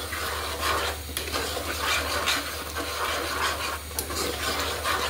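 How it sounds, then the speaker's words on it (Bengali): Kashmiri aloo dum with cashew and raisin paste sautéing over low heat, giving a steady soft hiss and faint scraping stirs throughout, with no talking. "এটা ভালো করে কষিয়ে নিতে হবে কম জালে"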